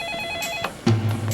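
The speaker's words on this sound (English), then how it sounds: "the phone rang." A telephone bell ringing, a short bright ring burst followed by a louder lower buzzing tone, close and clear with no talk.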